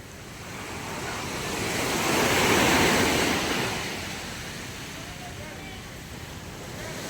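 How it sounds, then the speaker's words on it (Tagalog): Ocean waves surge near a fish terminal in Tanza, Cavite, a broad steady wash with rushing wind that swells to a louder peak midway and then eases back, continuous throughout. "malalaki ang ating alon."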